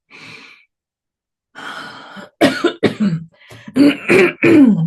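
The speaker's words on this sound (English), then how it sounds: "Let me cough it out." A short breathy sigh, a pause, then several harsh throat clearings and coughs in quick bursts, close and loud.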